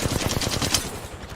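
Enemy gunfire in the video game Apex Legends: a rapid automatic burst of closely spaced shots, steady and fairly loud, rattling on for over a second without talk.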